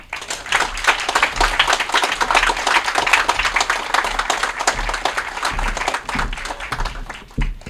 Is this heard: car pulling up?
no